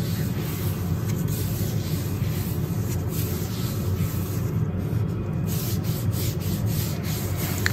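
Steady dry scrubbing of the skin of the feet during a dry pedicure with a gritty, sand-like scrub, a continuous close rubbing texture with no talk.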